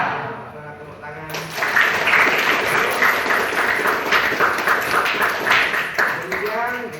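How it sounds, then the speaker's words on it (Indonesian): Schoolchildren in a ninth-grade classroom clap together after a short pause, a burst of dense, lively applause that stays loud for several seconds before fading, with a voice faintly audible at the start and end. "Tepuk tangan."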